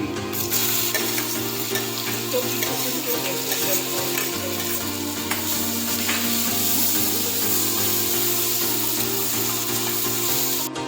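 Finely chopped onion frying in a pan with cumin, bay leaf, cloves and cinnamon for cashew paneer masala, steady loud sizzle with occasional stirring.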